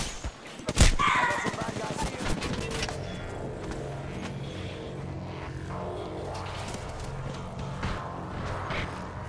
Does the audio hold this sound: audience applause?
no